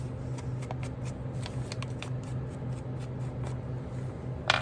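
Paper is torn and handled up close for a scrap journal, giving faint, scattered crinkles and rips over a quiet background and ending in one louder tear.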